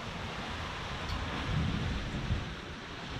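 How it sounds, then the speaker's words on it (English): Thunder from thunderstorms surrounding a sailboat at sea, a low distant rumble that swells midway over a steady hiss of wind and water. "So we have thunderstorms all around us."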